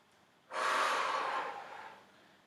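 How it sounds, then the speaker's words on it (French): A single deep breath drawn in during a stretching exercise with a towel, a broad airy rush starting abruptly, close and fairly loud, then slowly tapering off over about two seconds. "J'inspire."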